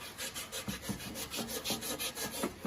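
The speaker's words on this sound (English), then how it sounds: "We're gonna sand this down just a little bit more." Sandpaper rubbing rust off the shaft of a blower motor, close up, in steady back-and-forth strokes about two or three per second with a gritty, scratchy texture.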